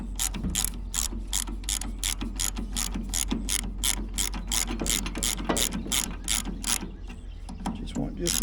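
A hand ratchet tightens a nylon locking nut with a washer, giving a quick, even series of crisp clicks, close and fairly quiet, with no talking.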